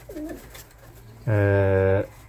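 A pigeon gives a short coo, followed by a louder, sustained cooing call, close by over faint background noise, among show and high-flying Roztocze and Zamość pigeons.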